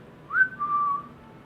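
A person whistles to imitate a strange whistling sound heard at nighttime. One short tone rises, then holds steady and fades.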